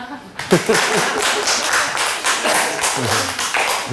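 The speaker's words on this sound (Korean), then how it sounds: "이쯤에 박수 한번 쳐야 되는데." Audience clapping during a Buddhist monk's lecture on the Avatamsaka Sutra, a loud close burst of claps and taps with thuds, uneven and sustained, with murmuring voices underneath.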